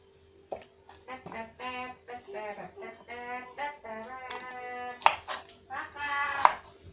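A knife chops through a pumpkin in a few sharp, close thuds, with a voice running over the cutting throughout.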